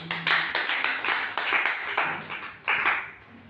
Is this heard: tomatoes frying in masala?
no